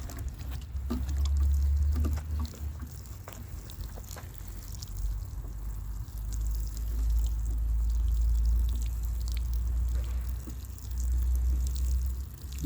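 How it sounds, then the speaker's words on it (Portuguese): Water is poured onto a newly planted cassava cutting in a small urban plot, a steady low splashing and gurgling stream that runs in uneven bursts for several seconds, close by and with no talk over it. "Então agora eu vou jogar uma água."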